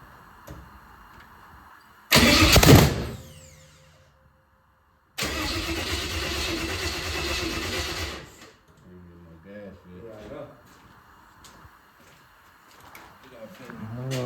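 A car engine cranks in one loud burst, goes quiet, then catches and runs roughly for about three seconds before cutting out. Low voices and clatter follow.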